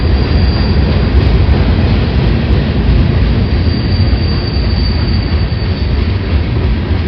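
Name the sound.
Union Pacific freight train with heavy coil cars, wheels squealing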